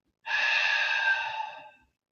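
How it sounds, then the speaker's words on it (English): A single deep breath is pushed out through the mouth, a close, breathy exhale lasting about a second and a half that fades out at the end, heard alone in a quiet room. "Until you can't inhale anymore, and then exhale until your lungs are completely empty."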